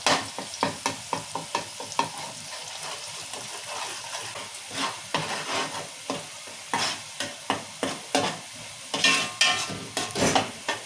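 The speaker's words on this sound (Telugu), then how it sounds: "ఈ పేస్ట్ ఎర్రమిగడ పేస్ట్ ఉల్లిగడ్డ పేస్ట్ టమాటా అన్నీ వేసినాం కదా నూనె బాగా ఉడుకుతుంది" Oil bubbles and sizzles in a pan with chili paste, onion paste and tomato for a village-style fish curry, while a spoon scrapes and stirs in repeated rhythmic strokes.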